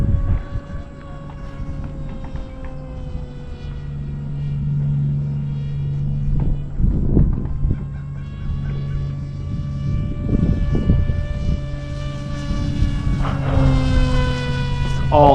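An electric RC flying wing with a 1200mm span, running on a 4S battery, whines steadily with rising and falling pitch as it flies, while strong wind buffets the microphone with heavy rumble and gusts.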